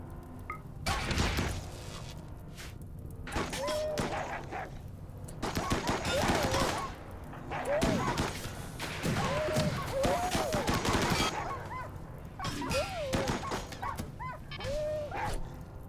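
Turret gunfire from the colony-sim game RimWorld, with repeated bursts of shots spread through the clip over a continuous bed of game sound, with short tonal chirps and a voice talking now and then.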